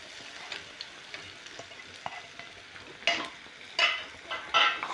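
Cauliflower leaves, onions and red chillies are turned over in a pan with a soft sizzle. Light scrapes and taps come at first, then several louder, longer scraping strokes near the end, all close by.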